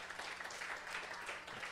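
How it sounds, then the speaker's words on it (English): An audience at a book-tour event gives a round of applause, dense steady clapping that fills the whole moment without a break, fairly loud and sustained. "give another round of applause"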